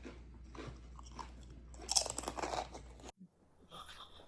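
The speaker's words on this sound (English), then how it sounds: "We're eating crackers with honey ham and cheese." Crackers with honey ham and cheese being bitten and chewed up close, with crisp crunches through the first half and a louder burst of crunching before a sudden cut to quieter background.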